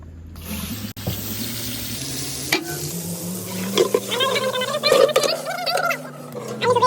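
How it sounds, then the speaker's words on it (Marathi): Onions hitting hot oil for kandori mutton, a loud hiss that builds into busy crackling sizzle, with scraping stirs and an occasional clank of a utensil. "तेल गरम झालं आता कांदा टाकतायत"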